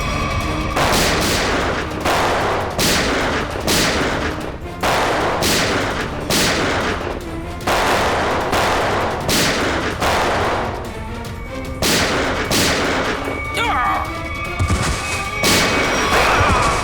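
Rapid volleys of gunshots burst out continuously during a televised police shootout in a Hindi crime serial, loud and dense with repeated cracks and booms and no clear talking.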